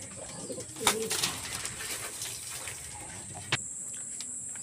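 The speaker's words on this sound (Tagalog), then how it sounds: "Ayan siya mga kalapatids." Racing pigeons arriving home to the loft, with flutters and faint coos over a steady high hiss, then one sharp knock near the end.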